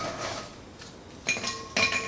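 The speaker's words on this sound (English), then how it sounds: "I'm going to put layers of cookies in the bottom." Cookies for banana pudding are set into a bowl, giving two light clinks and taps against the dish, brief and close, with quiet pauses between them.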